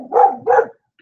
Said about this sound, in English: And there's the dog barking.